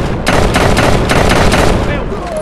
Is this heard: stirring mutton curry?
no